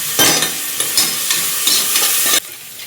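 Sliced onion frying in hot oil for a Mangalore-style chicken curry gives a loud, steady close sizzle. A few scraping stirs break through before the sound cuts off abruptly near the end.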